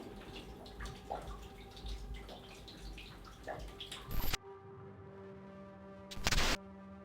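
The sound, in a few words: water running in brewery cellar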